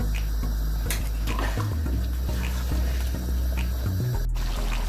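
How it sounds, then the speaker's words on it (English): Water poured into a one-pot chicken biryani, running steadily over the rice for several seconds as a continuous close splashing pour with faint clinks of the pot. "Now I'm going to pour in enough water to cover the top of the rice"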